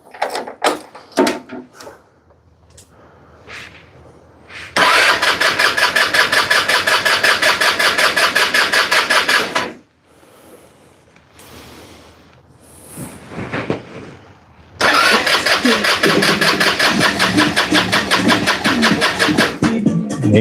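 A small vehicle's engine is cranked and started in a garage, with short clicks, then two long loud stretches of running or cranking separated by quieter pauses.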